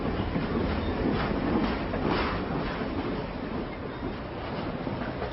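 A passenger train in India rolls along with a steady, loud rumble and rattling carriages, the sound heard from on board and continuous from start to finish.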